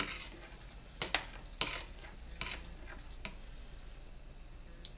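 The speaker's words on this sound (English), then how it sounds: "So a quick stirring of that." A spoon stirs water with white wine vinegar for poaching an egg, making a few sparse clinks and swishes against the pot over a quiet background.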